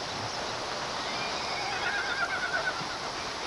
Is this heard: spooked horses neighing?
yes